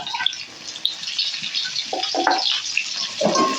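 Potatoes with green chilies and ginger fry in hot oil, a bright crackling sizzle with scattered pops and a few clinks of stirring, close and fairly loud.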